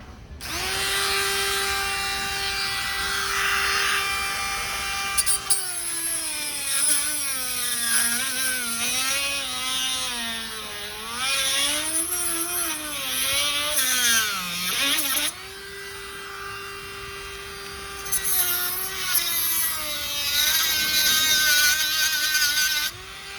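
Dremel rotary tool with a cutting disc grinding at a broken seat recline knob on a Chevy Venture minivan, a loud, sustained whine that dips and rises in pitch as the disc bites and eases off, with short pauses.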